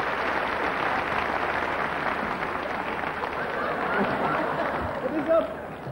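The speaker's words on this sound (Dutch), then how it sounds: "begroet ze met een hartelijk applaus" Warm welcoming applause from a TV studio audience as three guests come on stage for a New Year's Eve entertainment show, a steady broad wash of clapping holding throughout with a slight swell near the end.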